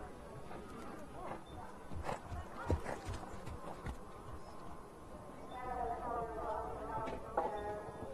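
A show jumping horse's hooves thud and clip-clop on the footing of an arena during a World Cup qualifier Grand Prix. The steady strides sound moderately close under a commentator's talk and the murmur of the crowd.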